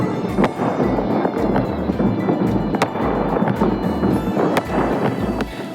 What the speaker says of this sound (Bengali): চারিদিকে আকাশে, এই দিকে দেখলে মনে হচ্ছে এইদিকে আরেকটা বাজি ফাটছে